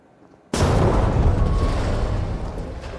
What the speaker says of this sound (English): Explosion. Okay, who is that? Sounds like a breaching charge.